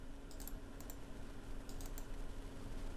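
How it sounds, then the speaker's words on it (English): Computer mouse right-button clicks, a few short, light clicks in small groups over a steady background hum. "then click for mouse right button, then click for paste"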